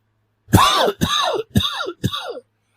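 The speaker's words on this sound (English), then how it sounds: "I'm just coughing." Four harsh, dry coughs in quick succession, loud and close, each a short rough burst with brief gaps between.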